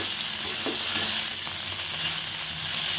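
Chicken roast with butter sizzles steadily in a hot pan while being mixed, producing a constant close frying hiss with faint stirring scrapes and no voices.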